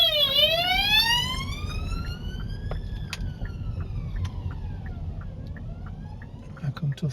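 An ambulance siren wails through traffic in Horsforth, Leeds, its rising and falling tone sweeping continuously over the rumble of a road vehicle's cabin, fairly loud throughout.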